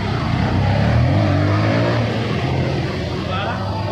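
A stock motorcycle engine, recently serviced for a sticking brake and stiff gear shifting, revs up in a loud, deep roar that swells near the start and then holds a steady throaty drone.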